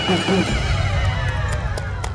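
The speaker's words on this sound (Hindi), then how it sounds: "अरे सफेद घोड़ा उल्टा क्यों चल रहा है?" A white horse neighs loudly and close by in a whinnying call at the start, followed by hoof clatter and background commotion.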